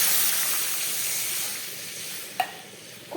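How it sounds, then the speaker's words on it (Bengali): Oil and water going into a hot kadai, a broad hissing sizzle that slowly fades, with a couple of brief sharp clinks near the end. "তার মধ্যে আমি দিয়ে দিচ্ছি একটু খুব সামান্য একটু সাদা তেল, আর দিয়ে দিচ্ছি এর মধ্যে পরিমাণ মতো জল।"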